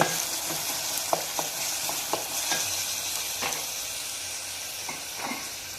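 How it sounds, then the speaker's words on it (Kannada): Onions and tomatoes frying in a pan, a steady loud sizzle with occasional clicks of stirring, close and continuous, no talking. "ಇವಾಗ ನೋಡ್ರಿ ಉಳ್ಳಾಗಡ್ಡಿ ಎಲ್ಲ ಫ್ರೈ ಅದು."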